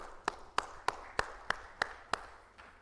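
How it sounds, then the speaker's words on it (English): A small group claps in seven sharp, evenly spaced claps about a third of a second apart, close and fairly quiet, with no talking over them. "so let's give yourself a round of applause"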